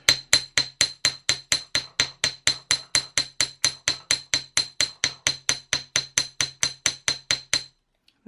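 A small hammer taps metal wire in a steady quick rhythm, flattening it for a jewellery clasp, about thirty bright ringing strikes close up, then stops.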